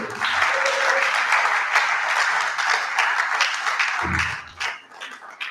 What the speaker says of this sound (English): You need to clap for the citation.